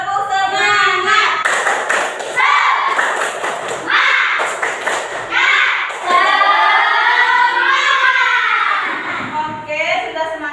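A classroom of pupils claps a rhythmic spirit clap together, loud, close and steady, with children's voices chanting along over the repeated hand claps.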